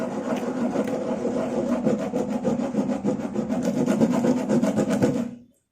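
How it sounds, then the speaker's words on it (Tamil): Kadukkai (myrobalan) seed rubbed hard under pressure on a grinding stone, giving a steady close rasping scrape with rhythmic strokes for about five seconds before stopping abruptly. "உங்களுக்கு எவ்வளோ தேவையோ இந்த கடுக்காய் சீட்ஸை வச்சு நல்லா வந்து பார்த்தீங்கன்னா தேய்ங்க"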